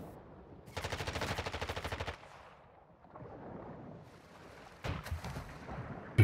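Rapid automatic gunfire in the video game Call of Duty DMZ, with one rattling burst of about a second followed by a shorter burst a few seconds later, plus quieter game noise between them.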